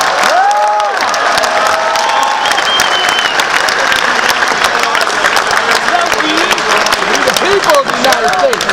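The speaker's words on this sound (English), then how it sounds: "So give yourselves a round of applause, and thank you all for coming tonight." Sustained applause and cheering from a Ron Paul rally crowd at Michigan State University, a thick roar of clapping with whoops and shouts rising over it throughout.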